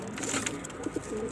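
A pigeon coos softly nearby over a brief, steady background hum.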